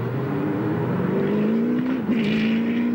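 V8 Supercars race cars at Eastern Creek in 2003, a loud sustained engine roar with rising and shifting pitch as cars drive past together, and a brief bump in the middle.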